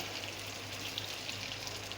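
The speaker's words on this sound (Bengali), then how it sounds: "ওটা এখন আমি এই তেলের মধ্যে দিয়ে দেব" A boiled soybean and flour mixture fries in hot oil with a continuous fine crackling sizzle, steady and even, with no voices over it.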